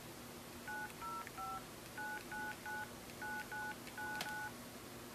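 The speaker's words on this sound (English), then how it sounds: "and dial a number." A BlackBerry Torch 9800 plays DTMF dialing tones as a number is keyed in: eleven or so short beeps in quick groups of two or three, clear and close over a faint background hum.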